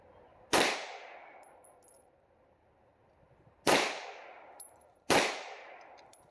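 Three sharp Rock Island STK 100 pistol shots at an outdoor range, loud cracks spaced unevenly with ringing decay and quiet gaps between them.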